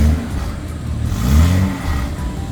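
BMW F10 535i engine with a catless downpipe giving gentle revs, a close, fairly loud rise and fall of the engine note over a couple of seconds.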